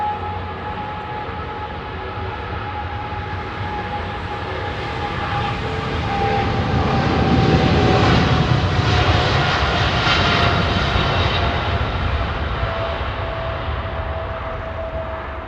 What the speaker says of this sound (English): This is an angry aeroplane.